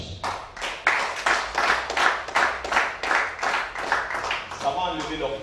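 Congregation clapping in rhythm during a church service, a steady run of loud, even claps repeating about twice a second, with a voice speaking over the applause.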